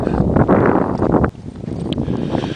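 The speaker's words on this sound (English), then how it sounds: "Bit of a wind chill's actually kicked up." Wind gusting across an open outdoor trail on a chilly day, a loud rushing buffet against the microphone that drops abruptly halfway through to a softer, steady breeze.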